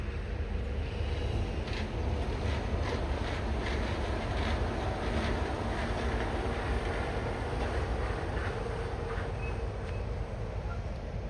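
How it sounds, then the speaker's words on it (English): Disney World monorail passing on a morning walk near a bridge, a faint, steady rolling rush with wind buffeting the microphone, continuous for several seconds with no voices. "And we have a monorail coming."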